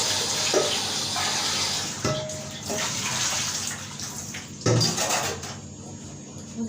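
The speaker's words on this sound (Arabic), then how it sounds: "ونعبي تاني الحله بتاعتنا هنا" Tap water runs into a cooking pot in a kitchen sink, a steady rushing splash with occasional clanks of the metal pot against the basin.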